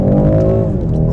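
A 2024 BMW 430i launches hard from a standstill with brake torque, its engine roaring loud and close as harmonics climb steadily through the full run, with no talking over it.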